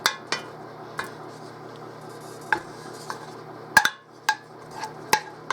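Metal utensil scraping and tapping in a cast iron pan while melting food for potato soup is broken up, giving scattered sharp clinks at an irregular pace over a low steady hiss.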